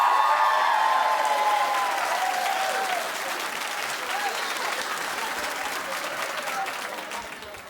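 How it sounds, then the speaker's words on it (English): A television talk show studio audience claps loudly and steadily throughout, a dense wash of applause that thins slightly toward the end, with faint crowd voices mixed in. "I want you to clap it like you mean it"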